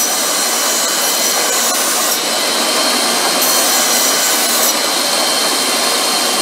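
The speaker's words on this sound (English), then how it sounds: "Not bad, an old worn out 120 grit belt. Just enough to get the mill scale off." A belt grinder running an old, worn 120 grit belt grinds mill scale off steel, giving a loud, continuous hissing rasp close up, with slight changes in pressure and no voices.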